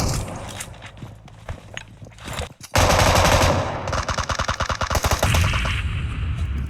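An M249 machine gun in a video game fires long rapid bursts of loud, closely spaced shots that start abruptly and continue to the end, preceded by quieter game noise and footsteps.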